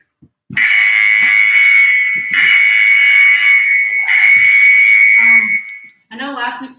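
An Interval Timer phone app alarm beeps loudly in three long, steady, shrill tones during a climbing training session, with faint thumps beneath and brief speech at the end.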